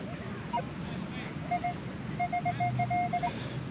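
A beach metal detector sounds a target tone, a short high beep and then a longer run of evenly spaced repeating beeps, heard over steady wind and surf noise.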